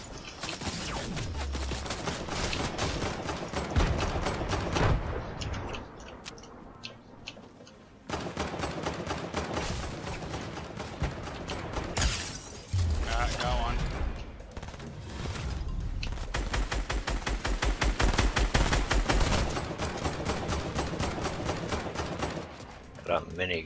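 Rapid, sustained minigun fire in Fortnite rattles almost continuously over about twenty seconds, broken by a few short pauses, loud and close with other game noise mixed in.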